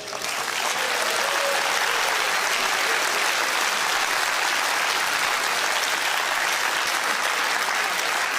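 A studio audience at a televised IQ test results show claps loudly and continuously, a dense sustained wash of applause with no talk.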